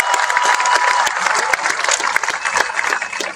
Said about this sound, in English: would you please give a warm round of applause for Beth Hankins.